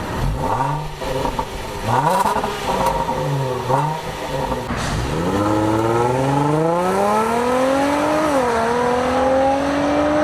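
A Range Rover SUV exhaust roars close and loud as the engine revs in several short bursts, then pulls through a long rising surge under hard launch acceleration, with no talk over it.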